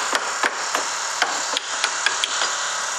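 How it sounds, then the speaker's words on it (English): A hammer strikes a chisel to tap out a loose leaf spring hanger bolt on a Renault Master van, giving about nine sharp metallic taps at an uneven pace over a constant background hiss. "I'm going to use a chisel to pop out this bolt"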